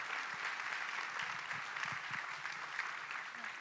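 Applause from a seated audience at a school-run TEDx event, a steady wash of many hands clapping together, moderately distant and fairly quiet, with no voices over it.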